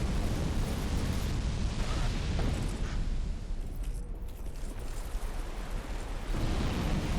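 Roaring fire and explosion blasts from the Old Iron King boss in Dark Souls II, a dense, loud, continuous rumble with a brief lull midway before the roar swells again.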